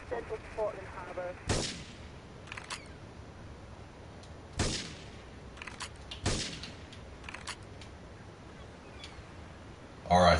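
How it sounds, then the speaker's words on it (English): Sporadic gunshots ring out in a Grand Theft Auto III shootout, three loud sharp blasts spaced seconds apart, with fainter short bursts in between and a voice speaking briefly near the end. "Investigate reports of gunfire and explosions"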